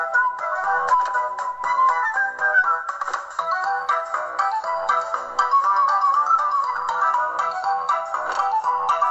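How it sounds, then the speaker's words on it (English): Angry Birds game music plays from a Samsung Galaxy J3 phone speaker, a bright, continuous melodic tune heard loud and close with no talking. "let's demonstrate this phone by using an app. Angry Birds."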